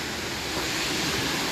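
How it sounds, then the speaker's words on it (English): A waterfall along a wet rocky hiking trail at Ricketts Glen State Park, heard as a steady broadband rush of falling water, loud and continuous throughout with no voices. "Here's the next waterfall."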